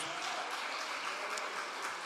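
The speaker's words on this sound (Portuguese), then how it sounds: "Aplauda o Senhor Jesus, amados." A Portuguese-speaking church congregation applauds, a soft, even roll of many hands clapping at a distance, steady throughout.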